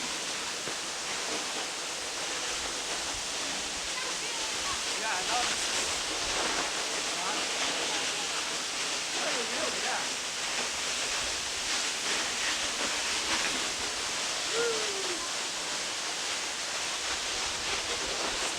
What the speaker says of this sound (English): It's very nice waterfall.